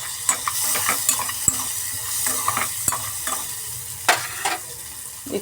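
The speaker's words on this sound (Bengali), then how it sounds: "এখন পেঁয়াজ কাঁচা লঙ্কা দিয়ে ভাজছি" Chopped onion and green chilli frying in a pan with a little salt, a steady soft sizzle broken by repeated scraping stirs of a spoon against the pan.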